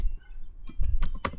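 A few quick clicks of keyboard keys, sparse and close, with a short burst of taps near the end over a low hum.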